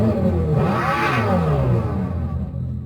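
The simulated exhaust of a Dodge Charger Daytona SRT electric muscle car revs up in a deep, throaty surge, rising and falling in pitch as it roars loudly and continuously, close by.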